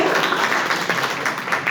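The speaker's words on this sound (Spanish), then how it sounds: "un fuerte aplauso para aquellos que han cumplido en hacer la reconstrucción de la subregla" Applause from an audience at a jurisprudence class session, a brief dense patter of clapping heard at moderate distance with no speech.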